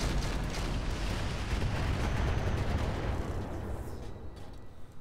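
Heavy weapons fire in the Roguetech mech video game, a dense, continuous rumbling barrage of booms and blasts that stays loud for several seconds before thinning out near the end.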